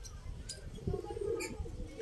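A derby racing pigeon coos softly with low throaty murmurs close by, alongside faint rustling and a few higher chirps in the background.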